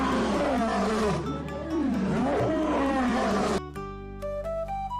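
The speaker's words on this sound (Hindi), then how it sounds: "उसने जोर से दहाड़ते हुए चील को धमकाया" A lion roars loudly and close in a cartoon jungle story, a long rumbling growl over several seconds that gives way to a sustained tonal music sting.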